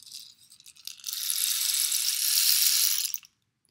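A small rain stick about one foot long is turned over, its pebbles pouring through in a dry, hissing patter that starts sparse, swells into a steady rush and stops abruptly after a few seconds.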